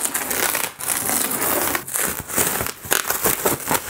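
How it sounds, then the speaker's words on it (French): Cardboard shipping box being torn and pulled open up close, a steady stream of loud crinkling, crushing and ripping with brief pauses between tugs, no talk. "on va ouvrir ensemble ce carton"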